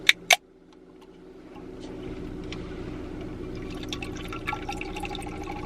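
Two sharp clinks at the start, then liquid is poured steadily over ice in a glass, a soft continuous trickle with light crackling.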